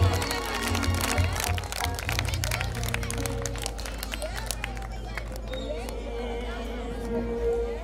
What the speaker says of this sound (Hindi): दोनों हाथ ऊपर उठा के महारानी के नाम की ताली